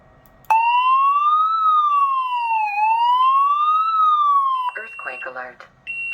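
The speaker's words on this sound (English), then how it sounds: "This is the sample sound warning that the EEW device will broadcast before an earthquake." An earthquake early warning device sounds its alarm, a loud steady electronic tone that sweeps up and down in a slow wail for several seconds, then a synthesized voice announcement follows.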